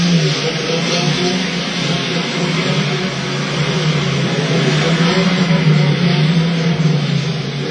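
An Aston Martin Vantage and a Caterham accelerate flat out side by side in a drag race, a dense, loud, sustained engine roar with a slowly rising tone that carries steadily for several seconds without a break.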